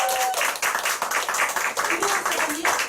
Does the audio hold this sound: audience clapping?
yes